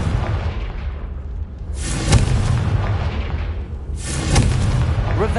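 Confringo spell explosions in Hogwarts Legacy, two loud booming blasts a couple of seconds apart, each with a sharp crack and a rumbling tail, over steady game ambience.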